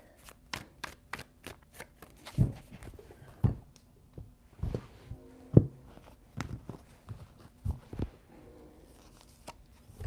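Tarot cards shuffled by hand, giving a run of crisp, rapid riffling snaps and slaps in uneven bursts, fairly close, with no talking.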